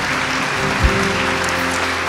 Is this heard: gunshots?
no